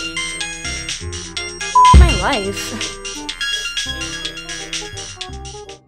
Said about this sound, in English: Then my phone rang again.